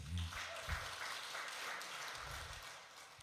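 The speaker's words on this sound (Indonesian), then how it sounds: "Tepuk tangan untuk Tuhan Yesus" Church congregation at a Sunday service clapping for Jesus, a dense broadband patter sustained for about three seconds at moderate, slightly distant level, with low voices briefly audible underneath.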